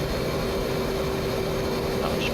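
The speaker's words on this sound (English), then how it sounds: "I'm just adding a little bit more throttle on." An F/A-18 jet engine in the DCS flight game spools up as throttle is added on a carrier landing approach, a steady loud broadband roar with a sustained whine throughout, no voices.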